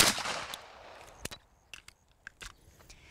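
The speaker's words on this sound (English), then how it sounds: "break the shot, track the sight, and break the shot again" Handgun shots ring out in a shooting demonstration, several sharp close reports spaced unevenly after an opening burst of noise, with no talking.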